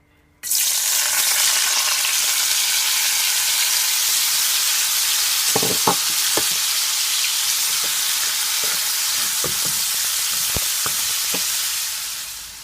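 Bell pepper, onion, spring onion, garlic and herbs fry in a pot with a loud, steady sizzle that starts abruptly and holds throughout, marked by occasional soft knocks from stirring and small pops.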